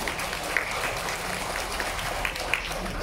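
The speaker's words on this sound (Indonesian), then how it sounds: "Tepuk tangan dulu untuk Nganjuk." Audience at a regency government ceremony in Nganjuk clapping for a few seconds, a steady muffled patter of many hands with a few sharper claps standing out, no voices heard.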